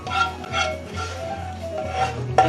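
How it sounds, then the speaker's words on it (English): A utensil stirs Alfredo sauce in a pan, producing soft repeated scraping and swishing strokes with a few light clinks against the metal, close and fairly quiet. "It's always important to keep stirring the sauce"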